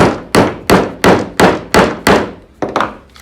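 Hammer blows drive a nail into the plate of a homemade blinking spinner toy: six evenly spaced, loud, close hard thwacks, then a quicker softer double tap at the end, with no talking.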